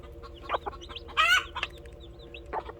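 Chickens cluck in a farm coop where a hen has just hatched chicks after twenty days of brooding, with several short clucks scattered through and one louder, rising call near the middle, close and fairly loud.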